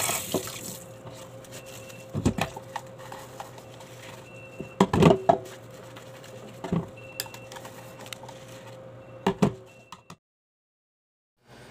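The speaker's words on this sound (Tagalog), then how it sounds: "kakatapos ko na maghugas ng plato" Dishes being washed at a kitchen sink under running tap water, with a steady close stream of water patter broken by several sharp clinks and knocks of plates, ending abruptly in silence.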